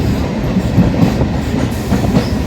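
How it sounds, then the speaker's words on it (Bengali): A Kolkata Chakrarail circular suburban train runs beside the Ganges, filling the space with a loud, continuous rumble and a steady clickety-clack of wheels on the rails. "এই দেখুন এবার গঙ্গা, পুরো গঙ্গার পাশ থেকে যাচ্ছে ট্রেন।"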